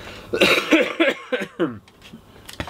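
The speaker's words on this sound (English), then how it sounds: "Excuse me, I'm going to cough now." A string of several coughs in quick succession, close and loud, tapering into quieter ones, with no speech.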